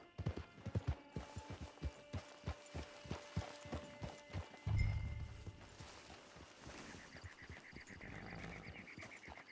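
Horse hooves clip-clopping in the video game Red Dead Online, a steady rhythmic run of close hoof beats that slows and gives way to softer ambient game sound.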